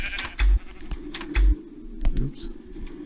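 Minecraft sheep give two short bleats close together, with keyboard tapping and clicks around them and a voice talking underneath.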